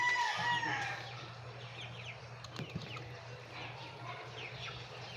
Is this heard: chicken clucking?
yes